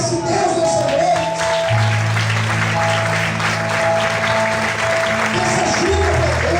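A church congregation claps during an evening service, a broad rattle of hands over sustained keyboard chords, with faint voices mixed in.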